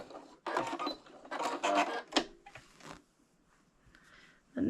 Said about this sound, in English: our machine and sew like a 1/4 inch seam allowance on that part that we just lined up